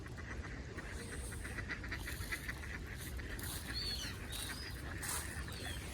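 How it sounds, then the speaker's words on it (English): Ducks and swans honk and quack in a garden, an irregular chorus of nasal calls at moderate distance over a constant wash of background noise. "These ducks sound kind of weird."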